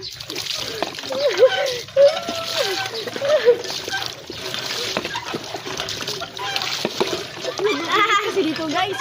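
Water splashing and sloshing as someone bathes under a hand water pump in hot weather, irregular splashes close by under excited, lively talk and exclamations throughout.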